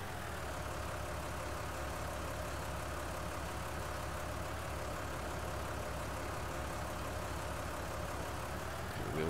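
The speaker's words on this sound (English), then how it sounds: "this is only a small tractor as well" A small tractor engine runs at a steady idle, a continuous low rumble that stays constant throughout, moderately near.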